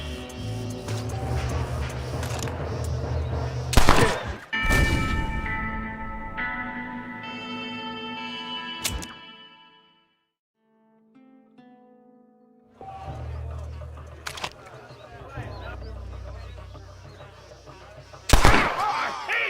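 Gunfire in the Western video game Red Dead Redemption: several loud, booming shots with echoing tails, spread out among game music and character voices.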